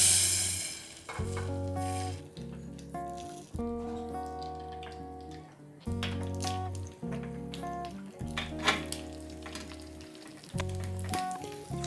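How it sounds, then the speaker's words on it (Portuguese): An egg frying in a little oil in a frying pan crackles and sizzles in uneven bursts, with clinks and pauses between them. It stays fairly close and moderately quiet, with no speech. "Agora, adicione um pouquinho de óleo na frigideira. Vamos fritar o ovo."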